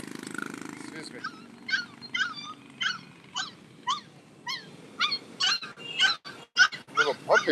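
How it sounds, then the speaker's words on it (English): A little puppy whimpers in the Philippines, a run of short, high, whiny cries repeating in uneven bursts over a low background rumble, fairly close and clear. "Little puppy back there."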